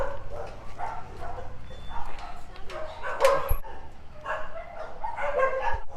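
Dogs at the Soi Dog Foundation shelter in Phuket bark and yip in short bursts, one sharp bark standing out, while a person talks over them nearby throughout.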